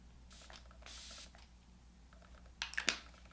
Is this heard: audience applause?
no